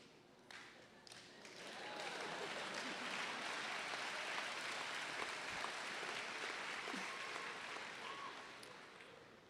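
Applause swells and holds from a commencement audience at a university graduation ceremony, a broad, even wash of clapping rising after a few scattered early claps and fading toward the end.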